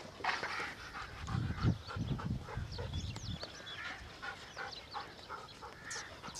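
A dog pants in quick rough breaths outdoors, with scattered bird and poultry calls in the background.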